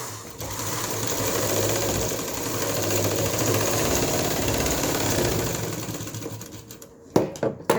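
A sewing machine stitches a double seam on an embroidered sleeve, its rapid even needle chatter running steadily for about seven seconds before stopping, followed by a few handling clicks.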